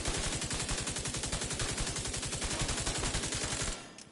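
Rapid automatic gunfire in The Division 2 as the player shoots at enemies, a dense, loud, steady stream of shots for nearly four seconds before cutting off abruptly.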